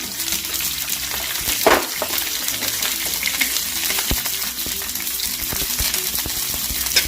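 Garlic, green chili and ginger fry in a hot pan with a steady, dense sizzle, broken by a few brief clinks and taps of a utensil.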